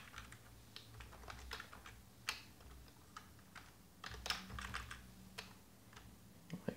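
Fingers type code on a computer keyboard in irregular quick bursts of sharp, close key clicks, some louder taps standing out, against a quiet background with no speech.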